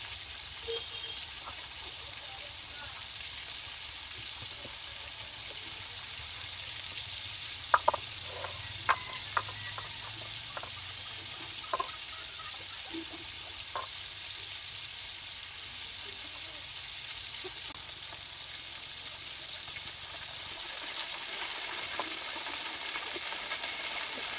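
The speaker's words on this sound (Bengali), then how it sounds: "চিংড়ি মাছগুলোকে দেখুন ভেজে নিয়েছে" Large prawns frying in oil in a pan: a constant close hiss of sizzling with a handful of sharp crackles and light utensil taps partway through.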